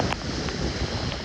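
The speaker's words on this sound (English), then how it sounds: "Strong wind gusts making it difficult to remain in the lane." Strong wind gusts buffet a vehicle on a road during a California storm, a steady loud roaring rush with no break across the whole moment.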